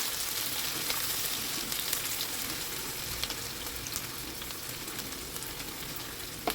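Chopped onion and green chillies frying in a pan for soyabean dal, a dense, steady hiss of sizzling oil heard close and alone, with a few faint clicks and stirring sounds.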